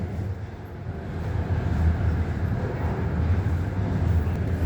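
A Guangzhou Metro Line 5 train rumbles past with a steady low roar that swells slightly and holds, heard alone without talk.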